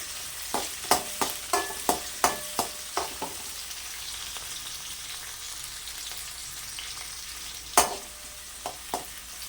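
A spatula stirs peeled garlic cloves frying in oil, giving a string of sharp metallic scrapes and taps over a faint, steady sizzle, then a few more taps after a quiet stretch.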